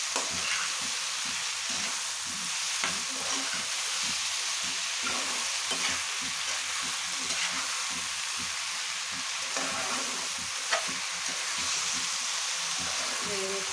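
Ingredients for a Bengali hilsa fish chachari sizzle lightly in a pan, a steady close frying hiss with occasional stirring scrapes and soft pops throughout.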